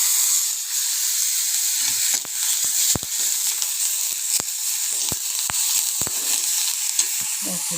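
Shallots, garlic and curry leaves sauté in coconut oil in a pan, a constant high sizzle broken by sharp spoon scrapes and taps against the pan at irregular intervals.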